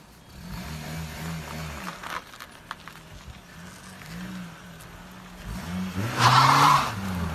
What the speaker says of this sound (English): I had to do a little burnout, a little burnout on the way out of there.